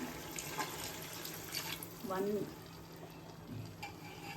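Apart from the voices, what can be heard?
pouring mutton cooking water into biryani pot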